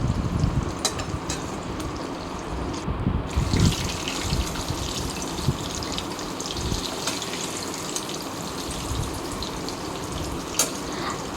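Green chickpea pakoras sizzle and bubble steadily in hot oil as they are turned, a dense continuous fry hiss with a brief louder stir near the start and occasional faint clinks.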